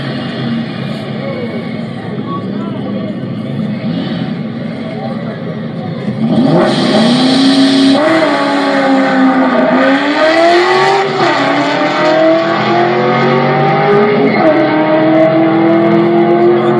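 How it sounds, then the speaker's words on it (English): A 2003 Mustang Cobra 10th Anniversary with a Procharger supercharger revs hard at a race, the engine note and rising supercharger whine climbing loudly in pitch after a quieter start. "You can hear that Procharger screaming."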